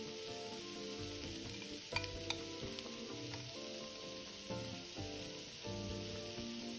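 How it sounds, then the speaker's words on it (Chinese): Char siu bun filling stir-fried in a wok as leftover char siu sauce is added in portions, a steady sizzle with scraping spatula strokes and a few sharp clinks, close and moderately loud with no talk. "边加入边拌炒，这酱汁分次加入"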